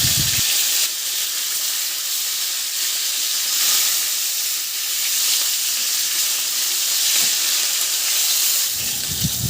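A salted serving-cut piece of talakitok fish fries in hot oil, giving a steady, dense sizzle and hiss that runs unbroken throughout, fairly loud and close, with no voices.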